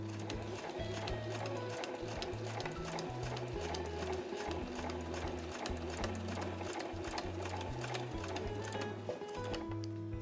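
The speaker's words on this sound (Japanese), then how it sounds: "そしたら縫い目を重ねてだいたいこの辺りまで縫っていきます。" A sewing machine stitches a fabric drawstring pouch in quick rhythmic bursts that stop and start, its close mechanical whirr and needle clatter steady at close range.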